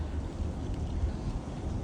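Strong outdoor wind buffets the microphone in a steady low rumble, loud and continuous with no voices or other sounds.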